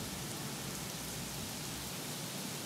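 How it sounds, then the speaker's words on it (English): Steady rain falling in the video game Craftopia, a continuous, even hiss of drops with no breaks, moderately faint and alone with no voices over it. "it'd be nice if this rain would go away"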